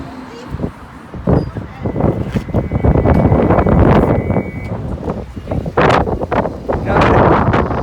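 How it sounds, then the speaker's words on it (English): Blustery seaside wind in Blackpool buffets the microphone in rough low gusts throughout, with people talking over it. "Typical Blackpool weather, blustery and windy."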